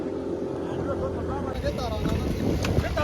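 A heavily loaded boat pushes through floodwater with a steady rumble and wash, loud and close, joined by wind buffeting the microphone and people talking over it.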